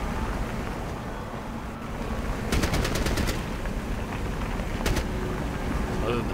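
Automatic gunfire in Fallout Tactics, a rapid burst of several shots followed later by a shorter second burst, heard over a steady background hum.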